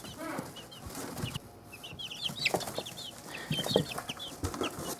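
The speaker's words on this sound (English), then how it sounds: "The little chickens have taken up residence in their bowl of food." Six-day-old chicks cheep and cluck in quick, high bursts as they are placed in with older chickens, with lower clucks from the grown birds mixed in at moderate volume.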